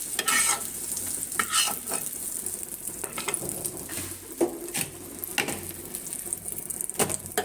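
Eggs fry in a pan for a home-cooked Bangladeshi lunch, a steady close sizzle with repeated scraping and stirring clatter from a utensil against the pan.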